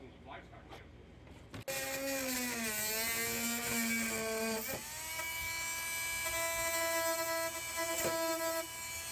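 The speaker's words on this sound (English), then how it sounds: "we're going to take our oscillating saw and we're going to cut out this piece of metal" Oscillating saw cutting out a piece of metal on a pass-through panel, a loud sustained high-pitched whine that starts abruptly, shifts pitch as the blade bites and then holds steady for several seconds.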